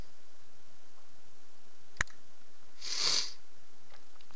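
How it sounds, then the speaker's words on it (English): A person sniffles through the nose, a single soft, breathy snuffle near the end of a quiet stretch, preceded by one sharp click. "I apologize for the sniffles there."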